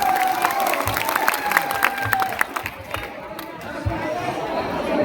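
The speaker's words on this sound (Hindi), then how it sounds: "एक बार उनके सम्मान में जोरदार तालियां हो जाए।" Crowd at a temple fair applauding and cheering for a singer, a lively mix of clapping, shouts and chatter with bright tonal sounds, busy and fairly loud throughout.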